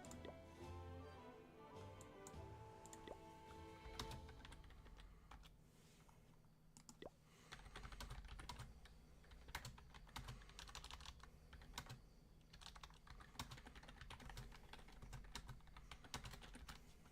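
Keyboard keys tapped in quick, uneven bursts during a Clash-of-Clans-style war raid and trophy-pushing gaming session, the clicks close and crisp over a low background hum. No talking.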